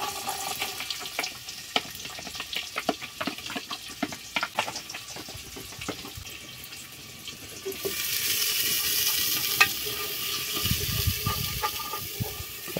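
Onion and garlic frying in a pan for a simple country lunch, a close crackling sizzle with scattered pops, growing into a louder steady hiss in the second half.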